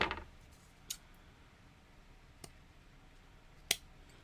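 Scissors trim the cord ends of a knotted nautical necklace, producing three sharp, isolated snips spaced apart in an otherwise quiet room.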